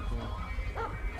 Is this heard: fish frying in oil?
no